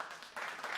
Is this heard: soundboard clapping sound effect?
yes